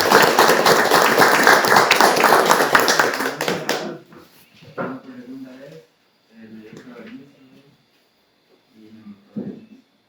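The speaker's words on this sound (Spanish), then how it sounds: "Un fuerte aplauso" Audience applause greeting a newly introduced guest at a men's fellowship chapter meeting, loud sustained clapping from a crowd for about four seconds, then fading into someone speaking.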